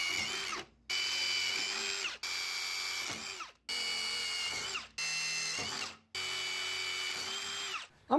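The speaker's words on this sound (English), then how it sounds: "Let's drill some holes." A power drill, lubricated with WD-40, bores holes in a Harbor Freight metal tool cart, whining at high speed in six sustained bursts, each cut off by a short pause before revving up again, close and loud.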